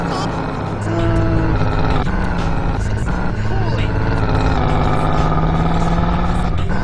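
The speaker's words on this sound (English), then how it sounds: "This car sounds so meaty." Car engine in the video game GTA, a deep, meaty rumble that is loud and continuous throughout, with shifting revs and occasional knocks, under a voice talking.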